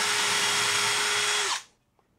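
A power drill whirs loudly and steadily for about a second and a half while boring into a soft lightweight thermalite block with hammer action off, then cuts off and winds down into near silence.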